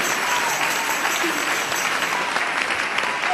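A church congregation applauds for Jesus during a testimony service, a steady, dense wash of many hands clapping at once, continuous and moderately loud throughout.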